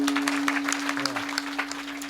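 An audience at a live kirtan claps together. The applause is a dense run of close-spaced claps lasting the whole moment, with a steady hum from the sound system underneath.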